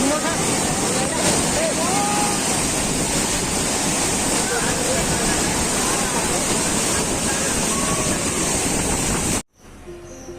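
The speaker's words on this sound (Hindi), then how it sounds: "ये है झरना कैसे दिखाते।" The Ghatarani waterfall in the rainy season produces a loud, constant rushing roar of heavy falling water, steady and close, before cutting off abruptly near the end.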